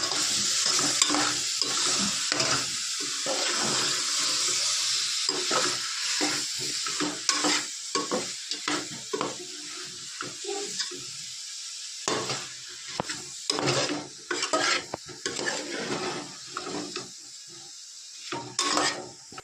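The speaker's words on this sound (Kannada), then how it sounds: "ಇವಾಗ ಮಶ್ರೂಮ್ ಹಾಕ್ಕೊಳ್ಳಿ. 2 ಪ್ಯಾಕೆಟ್ ಮಶ್ರೂಮ್." Two packets of mushrooms fry in a salted pan, sizzling steadily while a utensil scrapes and clacks against the pan in irregular stirring strokes, close and fairly loud, with no talk.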